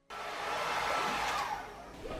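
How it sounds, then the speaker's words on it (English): A handheld blow dryer switches on abruptly and roars steadily at close range, drying a coat of paint on a pumpkin, a continuous airy whoosh that dips slightly near the end. "Don't mind me, just blow drying a pumpkin."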